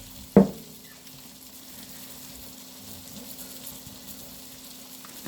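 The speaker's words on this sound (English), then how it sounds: "And then you stir." A short knock comes first, then a soft, steady sizzle with faint stirring scrapes while chicken cutlets cook, quiet and close, with no talking.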